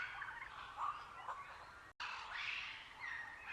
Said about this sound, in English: Sunrise birds.